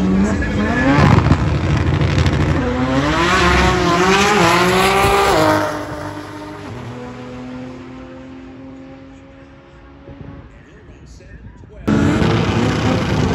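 Quick 16 class drag racing cars at Atco Dragway in New Jersey, engines roaring loudly and rising in pitch through the gears as a car launches and pulls away, fading off, then another loud burst of engine noise cuts in at the end.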